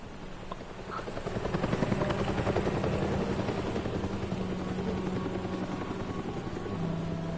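A video game helicopter's rotor thumps steadily and grows louder after a quiet start, holding a continuous rhythmic chop for several seconds.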